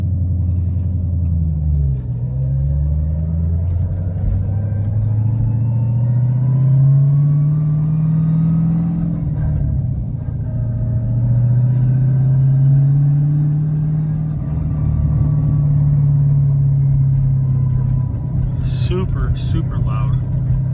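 A loud, close engine rumble from a Hellcat carries a loud rising and falling transmission whine as it drives, with a short sharp noise near the end.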